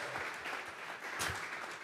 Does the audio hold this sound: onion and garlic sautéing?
no